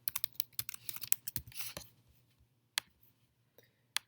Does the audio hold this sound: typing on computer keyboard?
yes